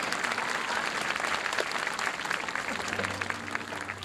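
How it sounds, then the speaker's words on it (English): A live audience applauds at the close of a 1988 Miami Vice stunt show at Universal Studios, steady dense clapping filling the whole stretch at a moderate distance. "Ladies and gentlemen, give them a nice round of applause."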